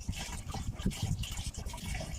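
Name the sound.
water being poured off while decanting akamu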